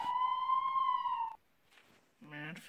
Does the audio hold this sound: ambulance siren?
yes